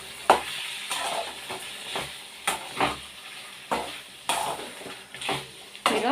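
Chicken frying in a pan on low heat, sizzling steadily while a spoon stirs it in repeated scraping strokes with occasional clinks against the metal, close up and with no talking.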